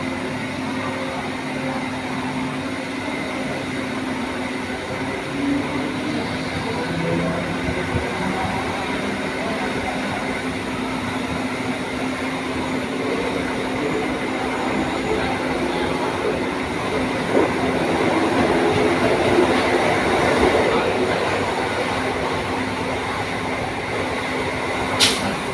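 A Mumbai local train running between stations: a loud, steady rumble and rattle of wheels and carriages holding for the whole stretch, with faint squeals coming through near the end.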